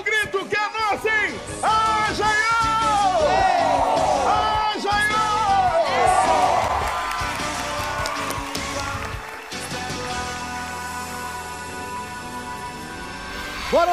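A Brazilian TV studio audience at The Voice Brasil cheers, yells and shouts loudly and continuously, with a dense crowd roar and voices rising above it before it gradually settles.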